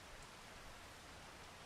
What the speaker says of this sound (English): All right, now it's raining.